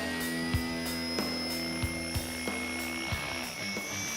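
A small remote-controlled helicopter hovers nearby during an aerial survey at Big Cypress Preserve, with a high, buzzing whine and rapid rotor chop, broken by regular soft thumps.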